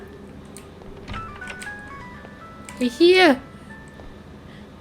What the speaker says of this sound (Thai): มีคนโทรเข้ามา